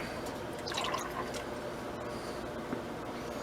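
Canned evaporated milk being poured into pumpkin pie filling in a kitchen, a faint, soft liquid trickle with a few small drips, quiet and close, with no talking.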